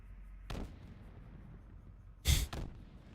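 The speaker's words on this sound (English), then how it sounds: "The effects in this game, the one-shot explosions, constantly just explode over and over again." Repeating one-shot explosion effects in a Metroid-style sand level in a game level editor: two booming blasts, the second louder with a quick echo-like follow-up, separated by quiet low rumble.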